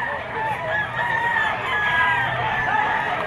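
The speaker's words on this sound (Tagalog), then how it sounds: "Mga stag lang sila mga tol." Stag roosters crow at a busy auction market in Padre Garcia, Batangas, with several overlapping calls rising over a dense, crowded background of clucking and bustle.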